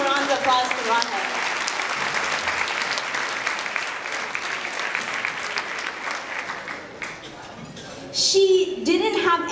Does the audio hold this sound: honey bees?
no